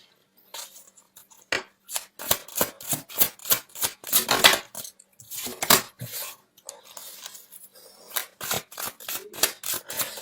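Tarot cards are shuffled close up in quick bursts of crisp snapping and slapping clicks, with short pauses between rounds.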